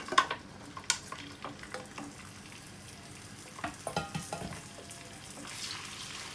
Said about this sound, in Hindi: इसे हल्का सा फ्राई करेंगे हम लोग